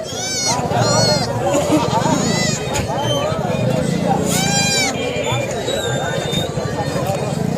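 Several goats bleat again and again at a goat and sheep market in Sangola, loud and near, over a constant murmur of crowd chatter.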